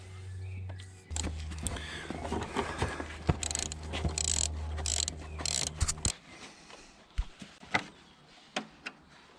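A ratchet clicks rapidly and steadily as a bolt is backed out of a brake line bracket on a 2009 Kawasaki ZX10R, close and fairly quiet over a low hum, ending in a few scattered clunks.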